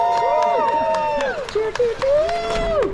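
At the start line of the Olympic Adventure Trail 50K, a small outdoor crowd of runners and supporters whoops and claps in sharp scattered bursts, with loud excited voices shouting close by.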